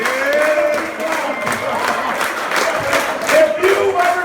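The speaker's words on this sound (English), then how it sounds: "If you've ever given Kyle Downey a ride to the golf course, stand up and clap" Wedding guests at a best man's speech clap and cheer together in a loud, sustained burst of applause, with scattered voices and shouts mixed throughout.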